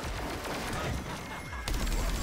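Dense, continuous weapon fire in Plants vs. Zombies Garden Warfare 2, a close, steady rattle of shots that fills the whole moment with only brief dips in loudness.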